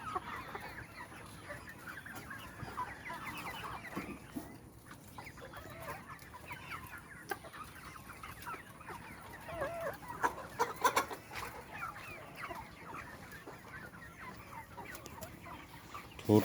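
Chickens about 85 days old in a poultry shed cluck continuously at low level, a dense overlapping chorus of many birds with occasional louder squawks, no talking.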